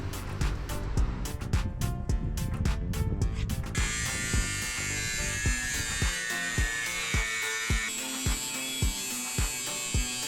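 Power tool cutting through the body shell of a Renault Super 5 under restoration, a loud, steady buzzing drone with rapid chattering pulses that shifts to a harsher, higher grinding whine partway through.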